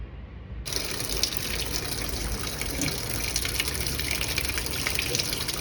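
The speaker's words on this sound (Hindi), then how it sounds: "तो थोड़ा पानी का लेवल यहाँ तक भर जाएगा ना थोड़ा सा, उसके बाद इसको ड्रेन करके देख लेंगे" Water gushes in suddenly and keeps pouring in a strong, steady rush, filling a drain area in a newly set-up home before it is drained.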